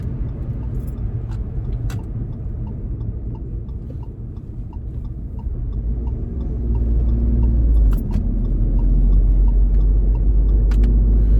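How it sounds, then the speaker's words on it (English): Road traffic inches along in a jam, with a steady low engine and tyre rumble and a few faint clicks and rattles, the hum swelling louder as a vehicle passes close. "here's a little traffic jam"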